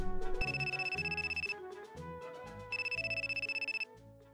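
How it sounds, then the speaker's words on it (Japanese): A telephone rings unanswered in two loud bursts of rapid, trilling bell tones separated by a pause, with a faint musical bed underneath. "今電話してるけど出ないんだよ"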